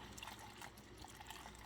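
Water pours steadily into a spray bottle that is being filled partway for a homemade spider mite spray, a faint continuous trickle with no talking.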